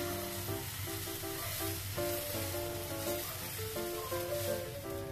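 Moong dal batter sizzling on a hot oiled pan, a soft continuous hiss running beneath louder melodic background music throughout.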